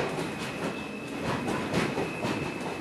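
A New York City subway F local train rumbles along the tracks, a steady close roar with rhythmic clattering of wheels and a thin high whine running throughout.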